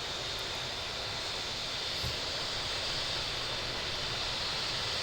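Boeing 737 MAX 8 taxiing in the Infinite Flight game, a steady broadband jet engine rumble and hiss at constant level, with no talk.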